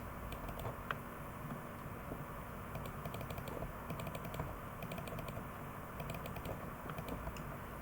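Close, quiet typing on a computer keyboard, keys tapped in short irregular bursts over a low steady background hum, no talking.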